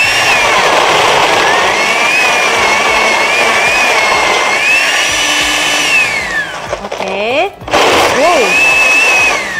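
A kitchen blender whirs loudly while making a chocolate drink during a live cooking session, a steady high motor whine that shifts pitch as the load changes and briefly cuts out near the end, with a person talking over it.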